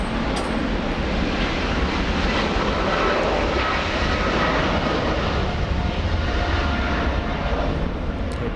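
Austrian Airlines jet airliner at Los Angeles International Airport, a steady, loud engine roar that fills the whole stretch without letup, with some wind rumble mixed in.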